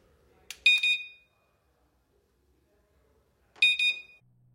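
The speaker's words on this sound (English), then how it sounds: "press and hold the musical note button until the unit beeps and the light turns on" A Guardian standalone security system unit gives two short, high electronic beeps during accessory programming, about three seconds apart, clear against near silence.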